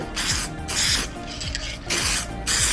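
Aerosol paint hisses onto Honda Civic 1995 hatchback interior parts in repeated spray bursts, each roughly half a second long, with short gaps between them, loud and close.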